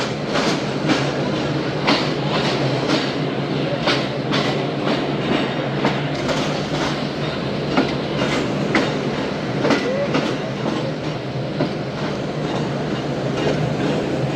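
The Shalimar Express passenger train runs on its first trip, wheels clattering in a steady rhythmic clickety-clack heard from on board, loud and continuous.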